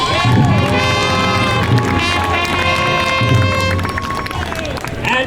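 A crowd at a Renaissance faire cheering to welcome Count Otto of Burgundy, with loud sustained shouting and whooping from many voices and a few higher children's cries mixed in.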